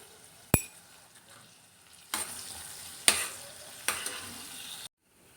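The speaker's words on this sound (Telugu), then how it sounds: "ఆయిల్లో కట్ చేసి పెట్టుకున్న ఆనియన్స్ పచ్చిమిర్చి వేసుకుని ఫ్రై చేసుకోవాలి" Chopped onions and green chillies hiss and crackle in hot oil in a pan, with a sharp utensil clink near the start, then a louder sizzle that swells with stirring and stops abruptly near the end.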